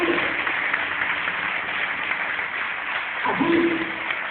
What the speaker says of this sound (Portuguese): Tem ali a salva de palmas para Jesus pelo seu milagre